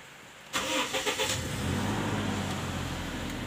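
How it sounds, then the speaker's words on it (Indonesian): A car engine, on a car fitted with a universal alarm system, cranks briefly and catches, then settles into a steady idle, close and loud with no talking. "kita hidupkan mesinnya."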